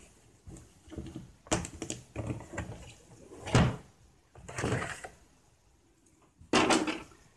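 The front cover of a Brother Scan N Cut SDX cutting machine is handled and opened, making a series of close plastic clunks, clicks and knocks in separate bursts with quiet gaps between them and no speech.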